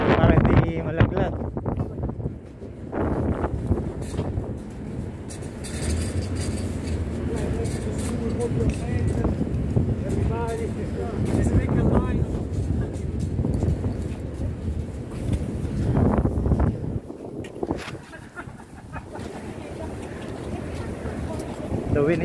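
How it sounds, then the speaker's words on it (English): Strong wind blowing around the Diamond Princess cruise ship in dry dock: continuous gusty rumbling and buffeting, loud at the microphone, with voices talking through it. "The wind is so strong."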